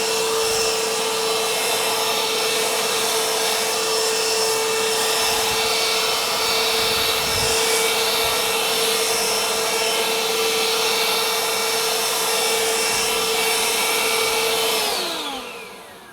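A repaired Worx electric leaf blower runs at full blast, a loud, steady whining roar with a constant tone, held for about fifteen seconds before the motor winds down at the end.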